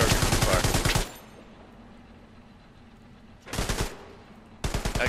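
Rapid bursts of automatic fire from a tank in the World War II game Hell Let Loose, loud and close, with one long burst, a pause, then two shorter bursts.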